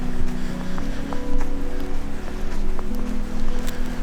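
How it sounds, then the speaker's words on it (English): Rough waves wash steadily onto a lake shore in northern Canada during a windy November snowstorm, a continuous loud surging roar with gusting wind and no talk. "You can probably hear the waves on the shore now of the lake. It's really rough."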